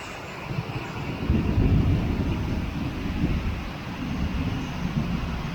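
Heavy rain and gusting wind roar as a steady broadband wash on a rural Thai vegetable farm, swelling louder in the middle and holding on without a break.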